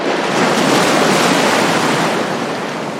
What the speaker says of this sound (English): huge wave crashed over the side, drenching Apollo completely